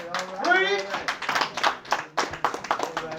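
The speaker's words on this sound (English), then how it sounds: "that's a mighty weak clap" Sparse, scattered clapping from a small audience at a Valdosta people's tribunal press conference, a handful of uneven hand claps following a brief voice at the start, thin and weak rather than full applause.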